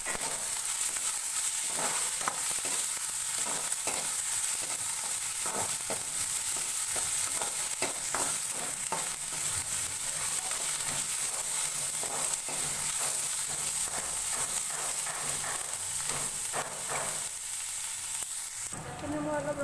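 Onion frying in a pan with ginger-garlic paste and a chili, a steady close sizzle with soft stirring scrapes running throughout, no talking.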